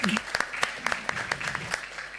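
A live podcast audience applauds, a moderate burst of sharp distinct claps with some voices talking underneath.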